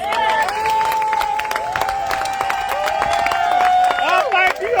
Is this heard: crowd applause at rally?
yes